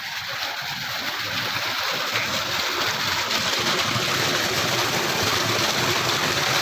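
Clear, cold village stream water flows steadily with a broad, continuous rushing wash, loud and near throughout.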